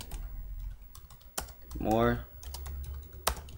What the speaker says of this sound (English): I keep typing too fast